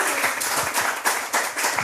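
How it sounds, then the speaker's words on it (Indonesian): Congregation at a Sunday worship service clapping, a brief burst of lively applause with rhythmic pulses, fairly loud and without talk. "Berikan tepuk tangan yang meriah."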